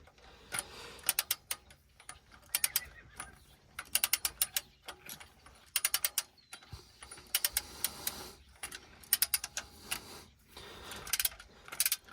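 A ratchet wrench tightens parts on a Cummins X15 truck engine being rebuilt, sounding as repeated bursts of rapid, close clicking with short pauses between strokes.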